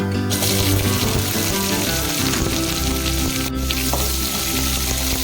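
Chopped onions hiss and sizzle loudly in hot oil with golden urad dal for tomato chutney, a steady close frying sound with stirring scrapes and no talk.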